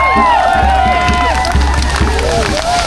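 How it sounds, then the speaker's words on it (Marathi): Crowd at a Ganapati immersion procession in Belagavi, a dense wash of cheering voices and whistles close and loud, with drumbeat-like thumps underneath throughout. "जोरदार टाळ्या वाजून निरोप घ्या"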